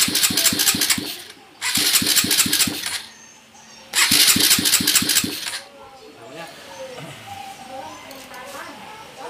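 A bare engine, removed from its vehicle and run on its own, is cranked three times with a loud, rhythmic chugging starter sound, pausing between tries. A quieter rumble follows, with voices talking near the end.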